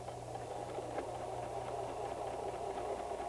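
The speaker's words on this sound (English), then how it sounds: "As I'm sewing, I will go forward a few stitches and backwards a few stitches" A White 1735 sewing machine stitching a few stitches forward and then in reverse while darning, giving a steady, even motor hum with a soft rapid needle rhythm, close and fairly quiet.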